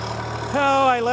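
A tractor engine idles close by with a steady low hum, and a voice talks over it for the second half.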